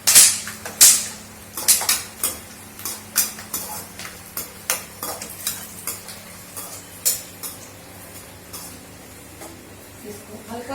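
Almonds lightly roasting in a pan with oil or ghee are stirred with a utensil, giving a steady series of sharp scraping clinks close by, loudest at first, with a faint sizzle underneath.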